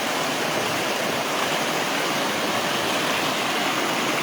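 A river near Diteki flows in a constant, full rush of water, loud and close, with no voices over it.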